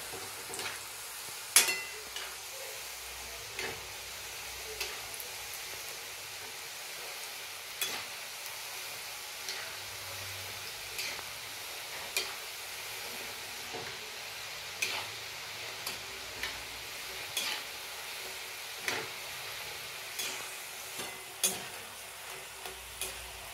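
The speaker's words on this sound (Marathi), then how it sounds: "शंकरपाळे छान तळून झाले, मस्त ब्राऊन कलर आलेला आहे" Shankarpali fry slowly in oil over a low flame, a steady soft sizzle with scattered light ticks and taps of a utensil spread across the whole stretch, no voices present.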